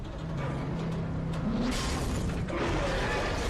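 A small explosion in a Dead Space 2 cutscene, a dull booming burst with crashing debris over a steady rumbling game background, no voices.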